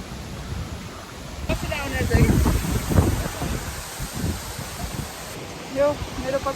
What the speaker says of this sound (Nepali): सिन्धुपाल्चोकमा रहेको एकदमै राम्रो रमाइलो झरना छ